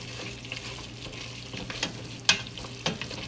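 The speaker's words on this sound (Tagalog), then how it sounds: "Haluin po natin siya" Food stirred in a hot pan, a utensil scraping and clinking a few times against the metal over a steady, close sizzle, with no voices.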